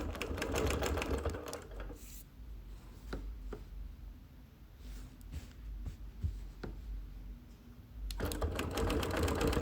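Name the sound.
sewing machine quilting a sampler quilt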